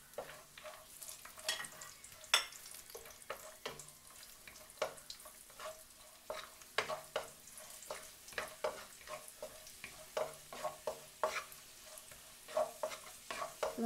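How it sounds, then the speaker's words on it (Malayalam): Cashew nuts fried in a pan for payasam, a soft steady sizzle under frequent sharp scraping strokes of a spoon stirring them, close and continuous with no talking. "ഇതിലേക്ക് നമുക്ക് കശുവണ്ടി ഇട്ട് കൊടുക്കാം."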